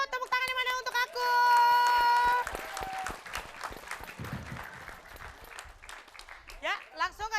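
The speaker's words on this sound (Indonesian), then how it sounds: "Aku, tepuk tangan yang mana untuk aku?" Audience applause at a televised comedy game show, a burst of clapping rising after a short musical sting and fading under lively voices talking over it.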